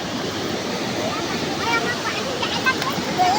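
Rising floodwater rushes and churns in a steady, broad wash of noise, fairly close, with a faint voice briefly heard over it.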